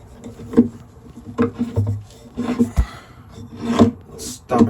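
An old screw being driven into the wood of a TV armoire as a stopper, heard as a close series of uneven creaking, scraping turns and knocks of the screwdriver against wood.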